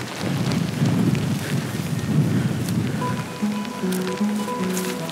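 Spring rain falls outdoors on the grounds of a French chateau, a steady close patter and hiss over the whole stretch, with brief tonal chirps appearing in the second half.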